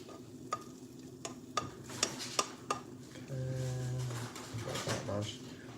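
Chopped pork frying in a pan for ramen, a steady close sizzle with sharp clinks of a utensil scraping and stirring, then a brief tonal hum, while someone talks nearby.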